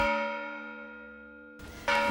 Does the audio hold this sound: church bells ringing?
yes